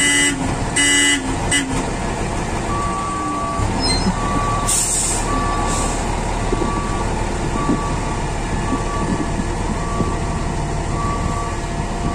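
A Terex TR50 heavy dump truck being driven and parked, its loud diesel engine droning steadily close by throughout, with bursts of air-brake hiss near the start and a regular electronic reversing beep repeating through the middle and end.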